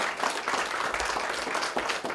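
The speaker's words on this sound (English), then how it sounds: "How about a round of applause for a guy who's been helping economic development?" Steady applause from an audience gathered at a historic mansion for a political appearance, moderately loud and even throughout with no voices.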